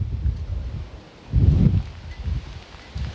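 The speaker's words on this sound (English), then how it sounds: "wind gusts obviously picking up a lot" Strong wind gusts buffet an outdoor microphone ahead of an approaching storm system, producing low rumbling bursts that swell sharply midway and then ease, with rustling in between and no voices.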